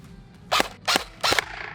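An airsoft AK-style rifle with a high-capacity magazine fires three separate semi-automatic shots about 0.4 seconds apart, each a sharp, close, snappy crack with a brief mechanical clack.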